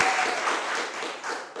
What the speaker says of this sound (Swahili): Makofi kwanza kwa nani?